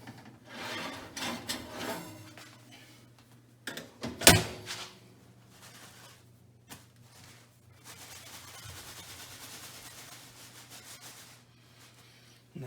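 Freshly powder-coated cast bullets straight out of the oven are shaken together, giving a rattling, rasping rush of small metal pieces with one sharp louder burst partway through and a steadier shaking run later.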